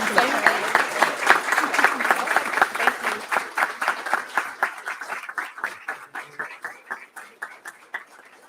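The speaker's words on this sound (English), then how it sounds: "So I want to give her a round of applause." Audience at a North Carolina APCO and NENA chapter meeting applauds a longtime member, a dense burst of clapping that thins out gradually toward the end.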